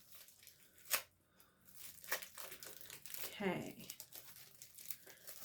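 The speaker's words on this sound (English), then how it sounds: "now let's rip this sucker apart" A Spongelle soap-infused sponge's plastic packaging is ripped open by hand, crinkling and tearing in a few close bursts with a longer rip near the end, as a voice speaks quietly between the sounds.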